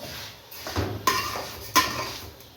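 A metal lid is set onto a cooking pot of Egyptian mosaka'a, a couple of close, bright clanks and a rattle over a low background hum.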